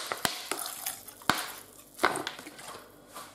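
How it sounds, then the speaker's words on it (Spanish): Water with a little vinegar poured into a pan of marinated pork chops, heard as a faint sizzle with a few sharp clinks and scrapes of a utensil against the pan. "le echo casi medio vaso de agua, casi, con un poquito de vinagre"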